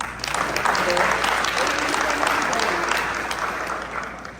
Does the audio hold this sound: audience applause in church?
yes